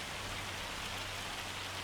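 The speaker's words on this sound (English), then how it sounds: "The rain's unbelievable." Heavy downpour in Farming Simulator 25, a steady dense hiss of rain drumming on surfaces, faint but unbroken, with a low engine hum from a tractor beneath it.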